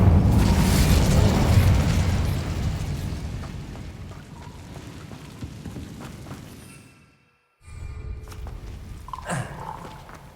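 The Incendio fire spell is cast in Hogwarts Legacy, a loud burst of flame that rumbles and fades over several seconds, then cuts to brief silence before quieter game ambience with small clicks and effects returns.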